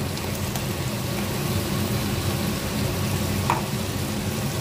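Spices frying in a pan for prawn masala, a loud, continuous sizzle with faint stirring scrapes running the whole time.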